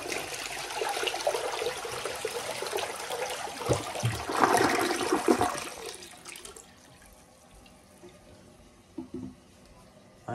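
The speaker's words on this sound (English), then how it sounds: "so let's give it a flush." A fully glazed toilet in a grandmother's house bathroom flushes with a loud rushing gurgle that fades after several seconds into quiet refilling trickles and a few small clunks.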